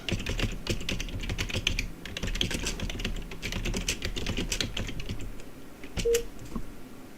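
Fast, continuous typing on a computer keyboard in a flight-simulation pilot client, with dense close clicking running throughout and nobody speaking.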